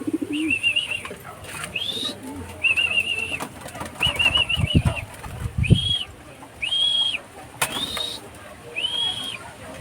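Pigeons coo in repeated short phrases nearby, with bursts of wing flapping and scuffling between the calls.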